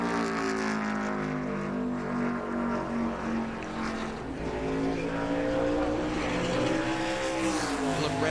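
A Gen 4 NASCAR stock car during a qualifying run at Loudon, New Hampshire International Speedway: a steady, droning engine tone that holds for several seconds, then sags in pitch as the driver eases off the throttle, with no talking over it.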